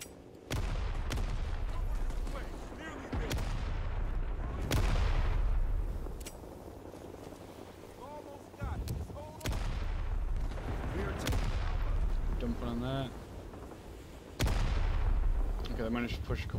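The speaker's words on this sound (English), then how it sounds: "It's a grenade." Grenade blasts and gunfire in Rising Storm 2: Vietnam, heavy booming explosions and volleys of shots repeating across the battlefield at close to mid distance, with a voice heard briefly between bursts.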